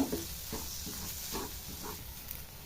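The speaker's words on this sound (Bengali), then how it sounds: "এবার আমি নাড়াচাড়া করে নেব" Ground spices with kasuri methi fry in a pan for a broccoli and potato curry, making a soft, even sizzle with a few faint stirring scrapes, close and steady, no talk.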